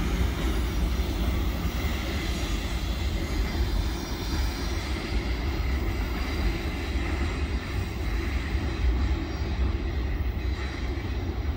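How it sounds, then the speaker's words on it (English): Norfolk Southern 11Z freight train rolling past on the gauntlet track in Kingston, Pennsylvania, giving a steady, loud, close rumble of wheels and railcars that holds throughout without talking. "That was Norfolk Southern 11Z on the gauntlet in Kingston"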